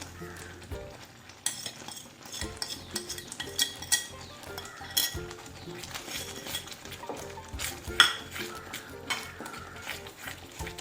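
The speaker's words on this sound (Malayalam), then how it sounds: "ശർക്കര ഒഴിച്ചിട്ട് നന്നായിട്ട് മിക്സ് ചെയ്തെടുക്കുക" A spoon stirs jackfruit batter mixed with jaggery in a bowl, giving repeated scraping and irregular clinks against the bowl, with a person talking at times.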